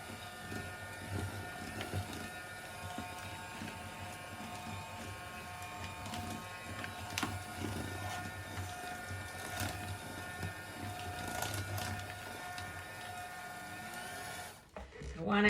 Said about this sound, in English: we're going to mix it low speed until it comes together